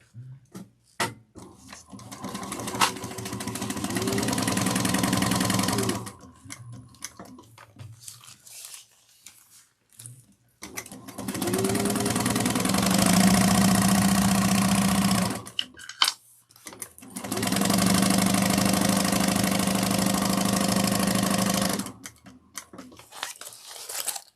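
A sewing machine bastes fabric for a train case in three long sustained runs of steady whirring stitching, close and loud, with short quiet pauses and small handling noises between them.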